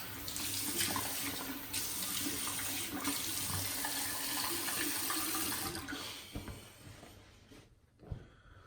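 Tap water runs steadily into a bathroom sink for wetting the face before a wet shave, a continuous close rushing stream that thins and stops near the end, leaving a few faint drips and handling sounds.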